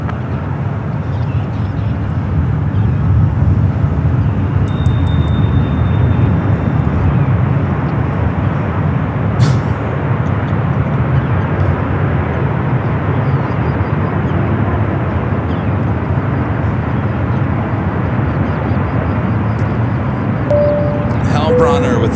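Airliner taking off from runway 28 Left at San Francisco International Airport, a sustained loud jet engine roar heard from a distance, with air traffic radio chatter and a person talking over it.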